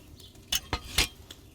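Clinking clay pot and tool sounds from a video game alchemy crafting step at level 26: three short, bright knocks and clanks in quick succession with a fainter tap after, no talking.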